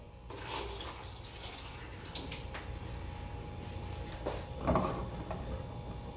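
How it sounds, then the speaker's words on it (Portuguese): Soaking water being drained from soaked brown rice, a faint, continuous splash and trickle of water with a few brief knocks and a louder splash near the end, no talking. "Eu vou descartar essa água."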